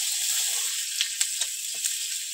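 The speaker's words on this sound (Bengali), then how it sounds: "পেঁয়াজটা একটু লাল করে ভেজে নেব।" Onion frying in oil with panch phoron, garlic and slit green chili, a steady close sizzle with a few sharper pops and crackles breaking through.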